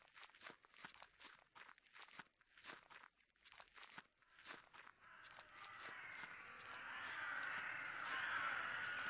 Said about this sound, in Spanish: Uy, los pájaros.